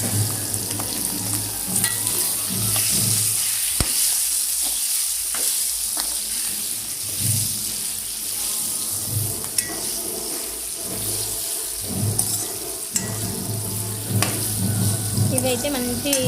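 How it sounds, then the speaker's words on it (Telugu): Washed ivy gourd pieces hit hot oil with turmeric in a pan, crackling and sizzling steadily up close while being stirred, with occasional utensil knocks. "ఇందులోనే కడిగి పెట్టుకున్న దొండకాయలు ఇలా వేసేసుకున్నాము."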